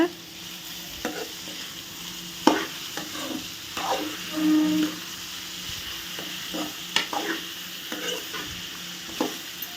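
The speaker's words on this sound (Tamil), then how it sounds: "இப்போ இது எல்லாத்தையுமே நல்லா மிக்ஸ் பண்ணிடுங்க" A spoon stirs a Sri Lankan-style beetroot stir-fry in a sizzling pan. Repeated scraping knocks sound over a soft, continuous frying hiss, close by and with no voices.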